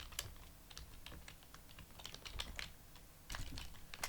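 Steady, quick keystrokes on a computer keyboard as a SQL CREATE TABLE query is typed for a PHP and MySQL tutorial; the clicks are close, fairly soft and continuous, with no talking.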